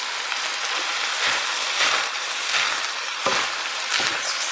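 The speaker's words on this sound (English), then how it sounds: "stir fry the rice uncooked rice that we soaked earlier" Soaked uncooked rice stir-fried with pork belly in a pan for Khmer rice porridge, giving a steady, fairly close hiss and sizzle with intermittent scraping bursts from stirring, with no voices.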